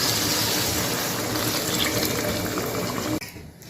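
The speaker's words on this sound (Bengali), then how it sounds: "হ্যাঁ দেখুন, জল দিয়ে দিয়েছি।" Salt water left from soaking paneer pours into a pan of cooked paneer and potato, a loud, continuous close gush and splash that cuts off abruptly near the end.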